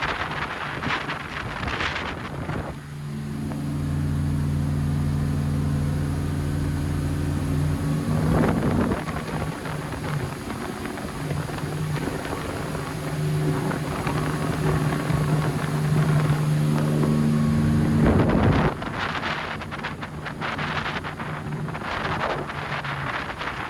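A Regal 3560 Commodore cruises at about 3,500 RPM and 20 mph on twin 285 hp Volvo Penta KAD300 diesels. Their loud, steady drone is heavily buffeted by wind across the microphone.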